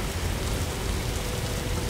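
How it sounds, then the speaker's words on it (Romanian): Heavy rain falling hard during a trip by plane, a dense continuous wash of loud, close noise with no voices. "Plouă destul de tare, încă nu s-a oprit ploaia."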